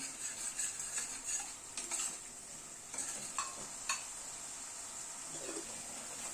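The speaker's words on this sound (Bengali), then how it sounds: "মিনিট 2-3 সময় ধরে কষিয়ে নিলাম গ্যাসের ফ্লেমটাকে মিডিয়ামে রেখে" A spice paste of yogurt, ginger paste and green chilli paste for rohu fish is sautéed on a medium flame. A soft sizzle runs under gentle, intermittent stirring scrapes and faint utensil clinks, with no talk.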